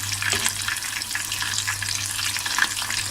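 Chicken wings for Buffalo wings fry in hot oil, giving a steady, close, crackling sizzle that continues throughout with no voices.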